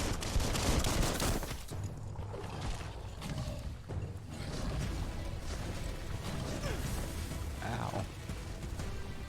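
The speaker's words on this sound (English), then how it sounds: "Bullets everywhere." Gunfire in the video game Biomutant rattles at low volume through a busy mix, with a few sharper bursts and clanking mechanical sounds under a speaking voice.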